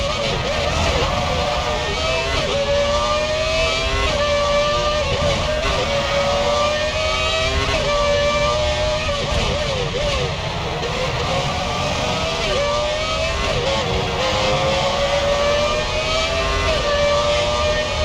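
Formula 1 race cars at Albert Park in the F1 Championship Edition video game: a continuous loud engine drone with rising and falling pitch sweeps as gears shift, steady throughout.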